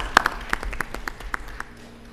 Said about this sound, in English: that's well worth another round of applause